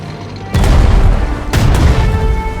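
A tank unit attacks enemy artillery in the turn-based war game Strategic Mind: Blitzkrieg, heard as two heavy booming blasts about a second apart, loud and close, with rumbling decay and no voices.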